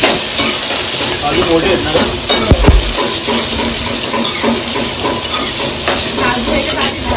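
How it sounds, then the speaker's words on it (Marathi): Fresh wet cashew kernels roasting in hot oil for a Malvani-style dish, a dense, loud, continuous sizzle with occasional stirring scrapes, close up, with a brief remark from a voice partway through. "मग आता आपण ना काजू ह्याच्यात चांगले भाजून घेऊया तेलात आधी"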